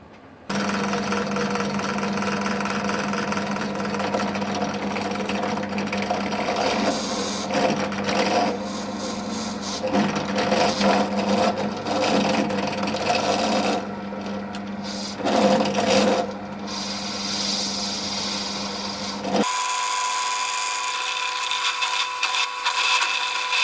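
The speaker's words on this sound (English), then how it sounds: "and then I'll start drilling" A power drill buzzes steadily through Perspex for a long stretch, with grinding surges and short pauses, then changes to a higher, thinner whine.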